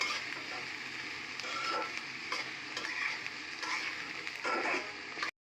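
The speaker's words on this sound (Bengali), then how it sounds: "একটু লাল করে ভেজে নিব।" Onions frying in oil in a pan for a chutki recipe, a continuous loud sizzle broken by repeated scraping strokes of a spatula stirring, with no talking.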